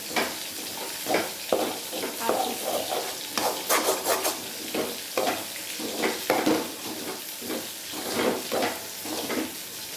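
Home-ground masala is stirred in a pan for a Kerala fish curry, giving close, repeated scraping strokes over a soft sizzle with occasional utensil clinks, in an irregular rhythm and with no talking.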